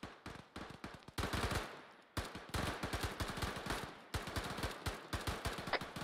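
Gunfire in a military shooter set in desert combat, with rapid bursts of automatic shots in sharp, evenly spaced cracks broken by short pauses, loud and close with no voices.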